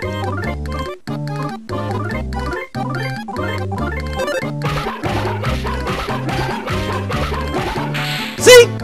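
Boney the dog barking in the game Mother 3, a string of short rhythmic chiptune-style yips over looping game music, ending with a brief bright jingle.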